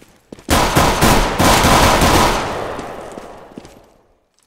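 Sustained automatic gunfire in a competitive video game match erupts after a couple of quick shots, a loud dense barrage lasting about three seconds before tapering off into scattered faint pops and silence.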